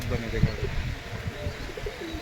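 Two female Giribaj pigeons coo in low, throaty murmurs, close and continuous, mixed with soft rustling and a background voice.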